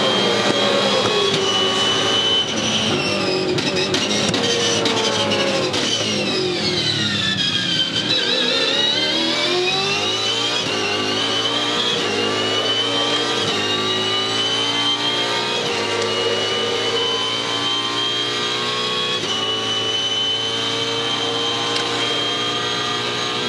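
Onboard a Supercars racing car during the 2014 Tasmania 400, the engine roars loudly and continuously, climbing and falling through gear changes as it accelerates and brakes around the circuit, with no talk.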